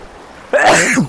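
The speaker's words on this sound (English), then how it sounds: "I gotta sneeze" A single loud sneeze bursts out after a moment of near silence, close to the microphone.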